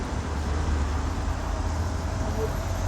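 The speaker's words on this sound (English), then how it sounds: "Right, there's a bus coming past now." A bus passing by on the road makes a faint, low, steady rumble that swells slightly and stays fairly distant, under a quiet background.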